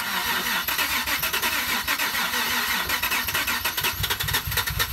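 An auction-bought drift car's engine cranks and fires up, settling into a rough, steady idle heard close and loud throughout.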